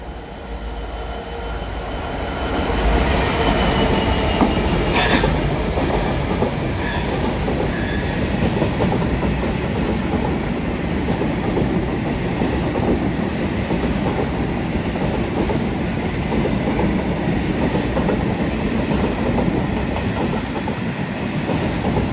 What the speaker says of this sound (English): passing through now is a freight train en route from Whitemore Yard to Willesden